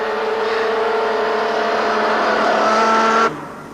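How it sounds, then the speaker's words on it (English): Racing cars on a warm-up lap, warming their tires, make a loud, sustained engine drone that stays close and steady for several seconds before cutting off abruptly near the end. "just starting to warm their tires, and this they call the warm-up lap"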